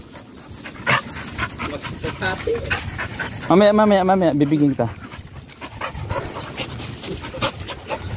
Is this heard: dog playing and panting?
yes